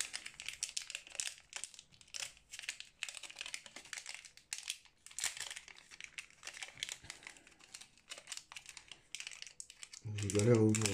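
Plastic packaging around a Samsung Galaxy A70 charging cable crinkles and rustles in bursts as it is pulled open, close and fairly quiet, with a brief louder rustle near the end.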